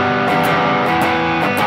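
Distorted electric guitar strummed with no left-hand muting, producing a loud, sustained, ringing wash of overdriven strings with repeated strums cutting through for nearly two seconds, no talking.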